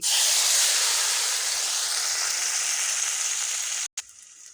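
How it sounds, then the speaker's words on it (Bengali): Chilli, onion and garlic hit hot oil in a pan where fish was just fried, a loud, steady close hiss and sizzle that runs on, then cuts off abruptly near the end. "এখন ঝাল, পেঁয়াজ, রসুনগুলো হালকা ভেজে নেবো"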